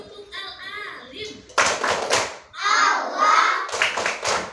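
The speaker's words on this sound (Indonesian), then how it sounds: "Tepuk Al-Alim" Children in a classroom chant a call-and-response verse, and bursts of quick rhythmic hand claps break in twice between the sung lines, close and fairly loud.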